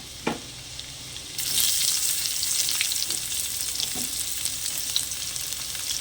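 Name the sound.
frying chopped ginger and onion for pumpkin ghonto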